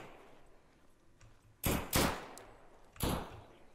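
Three sharp gunshots ring out in the survival shooter Deadside, two close together and one after a pause, loud over a quiet background hiss.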